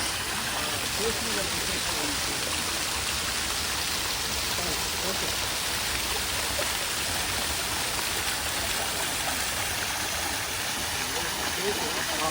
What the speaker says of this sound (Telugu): బాగుంది వాటర్ ఫాల్.